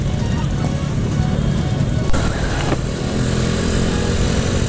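Motorcycles riding together in a convoy on a group ride to Batangas, a steady loud engine drone throughout with a brief louder pass near the middle, and people talking over it.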